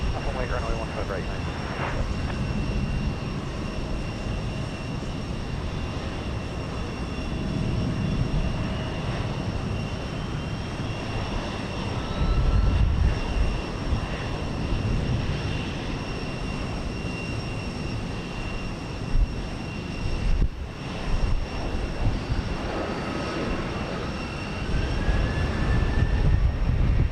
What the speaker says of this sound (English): United Flight 320, a 737, to Baltimore Washington International Airport